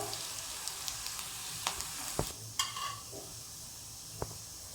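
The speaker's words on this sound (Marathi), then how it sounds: "इथे कांदा परतून झाला आहे आपला" Onion fries in oil in a pan with a quiet, steady sizzle, broken by several sharp clicks and scrapes of stirring.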